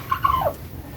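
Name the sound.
chicks peeping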